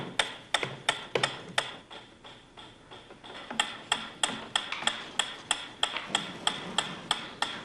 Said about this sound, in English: A ticking metronome.